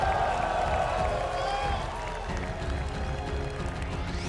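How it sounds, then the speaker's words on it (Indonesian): A large crowd at an Indonesian political rally claps and cheers for Prabowo, the Gerindra chairman, in a loud, dense burst that softens slightly midway, with voices mixed in. "Tepuk tangannya dahsyat penuh rasa cinta"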